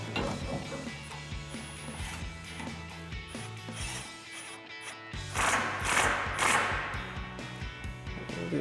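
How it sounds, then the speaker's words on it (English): Ratchet wrench with a 21 mm socket snugging a nut on a 2019-2024 Chevrolet Silverado 1500 rear bumper mount, giving rapid mechanical clicking in bursts over a steady background hum, fairly close and moderately loud. "So we'll snug it with our 21 mil socket yet again."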